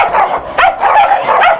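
A black dog about a year and a half old barks in a shelter adoption setting, a quick run of three or four loud, close barks with short pauses between them and no talk.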